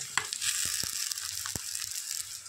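Potatoes and ground garam masala paste fry in a pan with a steady broadband sizzle, while a spoon scrapes and knocks a few times against the metal.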